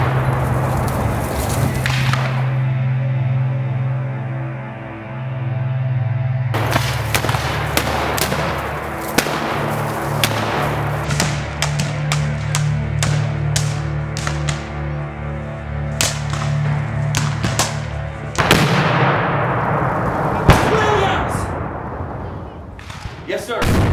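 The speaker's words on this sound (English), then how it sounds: "Who the hell is firing that cannon at us?" Cannon fire in a Civil War battle scene booms in repeated heavy blasts and sharp cracks over a steady low rumble, with voices talking between the shots.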